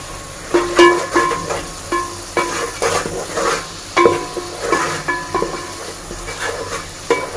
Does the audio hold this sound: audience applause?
no